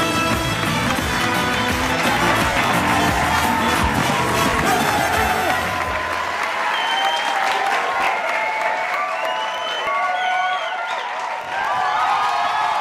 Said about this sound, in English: Oh, the crowd is going wild.